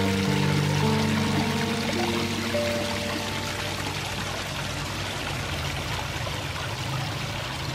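Water pours steadily from the waterfall of a newly finished in-ground koi pond with a four-chamber filter, a continuous close splashing rush with no voices over it.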